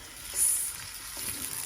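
Chopped onions sizzle and fry in a pan for a curry, a steady close crackle that swells briefly, heard alone without talk.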